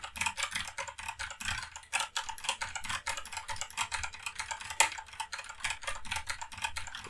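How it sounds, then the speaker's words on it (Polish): Rapid clicking keystrokes on a computer keyboard while playing Gimper Simulator 3, a close, busy stream of crisp taps that keeps going without pause, with no one talking. "Bardzo przyjemna do słuchania klawiatura."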